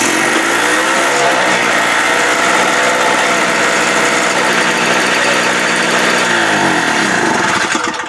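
Harbor Freight Tailgater generator engine running with the choke on, a loud, close, rough mechanical roar with rapid firing pulses and a slight shift in pitch as it runs, steady for the whole stretch.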